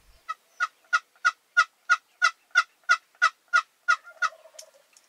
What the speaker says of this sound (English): the gobblers keep calling in the field behind us